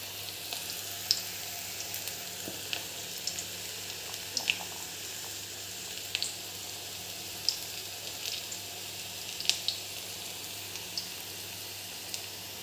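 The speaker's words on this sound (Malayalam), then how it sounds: "വറുത്ത് കോരി എടുക്കുക." Gram flour snacks deep-fry in hot oil with a soft, steady bubbling hiss dotted with faint pops and small clicks, continuing quietly throughout without any voices.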